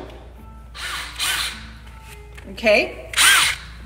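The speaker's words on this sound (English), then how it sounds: "how one would learn how to drill these holes" A power drill bores holes in an airbrush tool case in short whirring bursts, two stronger near the end, with someone speaking briefly between them.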